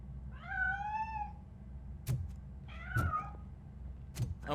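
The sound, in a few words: cat meowing in Robocop: Rogue City video game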